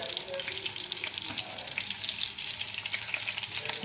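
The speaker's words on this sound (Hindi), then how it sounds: "ये अब मैंने स्टिक को फ्राई कर रही हूँ" Chicken sticks deep frying in hot oil give a steady, dense crackling sizzle, close and moderately quiet, continuous with no talking.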